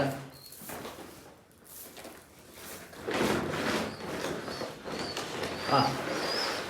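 Pigeons at a loft setup coo in low, throaty bursts while grain is handed out, with faint clatter and occasional voices nearby.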